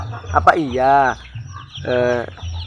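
Free-range village chickens cluck in short bursts and two longer drawn-out calls, close by, with a little background noise and faint voices between the calls.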